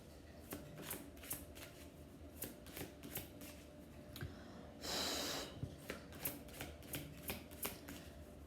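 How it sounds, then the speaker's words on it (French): Oracle cards for inner-child healing being shuffled by hand, a steady run of soft papery riffles and flicks close up, with a brief louder burst of card noise midway and no talk. "Je vais maintenant tirer une carte de l'oracle de la guérison de l'enfant intérieur."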